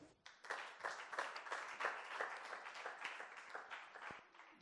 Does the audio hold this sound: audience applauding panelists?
yes